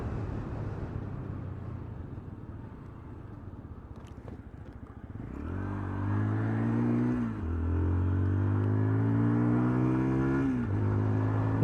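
A Zontes Firefly 125cc motorcycle being ridden, first a rough idling rumble, then the single-cylinder engine revving up through several gears in repeated rising pulls, loud and close.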